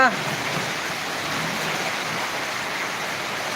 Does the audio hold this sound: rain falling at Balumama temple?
yes